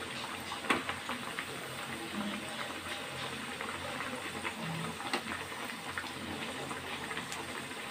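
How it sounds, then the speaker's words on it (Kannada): Dal vada, Udupi-style chattambade, frying in hot oil, giving a continuous bubbling sizzle with scattered pops, fairly close. "ಚೆನ್ನಾಗಿ 2 ಸೈಡ್ ಕೂಡ ಫ್ರೈ ಮಾಡ್ಕೊಳ್ಳಿ"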